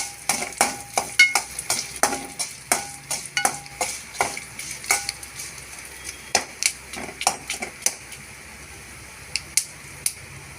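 A dough ball fries in a pan for a green gram curry, with a soft sizzle beneath a series of crisp spoon taps and scrapes in uneven bursts, near and moderately loud.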